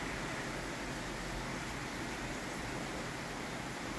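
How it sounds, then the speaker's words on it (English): Steady rain falls outdoors in a natural setting as an even, broadband hiss that holds constant throughout at a soft, close level, with no voices or other distinct sounds. "beautiful nature and rain."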